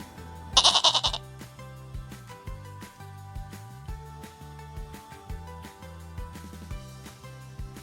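A goat gives one loud, quavering bleat early on, set against a bouncy children's music backing that continues after the call.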